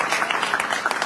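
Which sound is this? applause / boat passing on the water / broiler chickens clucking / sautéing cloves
applause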